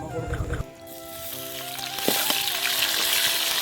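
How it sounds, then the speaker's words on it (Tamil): Turmeric-coated meat drops into a pan with cinnamon and chilli, setting off a steady sizzle that swells after a brief quiet start, with a sharp clatter near the middle and bright crackling frying continuing close by. "மஞ்சத்தூள் சேர்த்த கறியை வந்து பட்டை மிளகாவில் போட்டுக்கலாம்"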